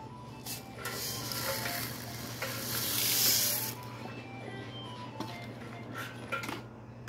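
Tacos frying in a pan give a steady, close hiss and sizzle that swells briefly in the middle, with faint clinks of cookware along the way.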